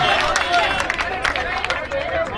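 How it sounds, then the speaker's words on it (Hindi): Loud crowd at a large political rally applauding and cheering, a dense sustained roar of clapping and voices across the whole stretch. "स्वागत कीजिए जोरदार तालियों के साथ"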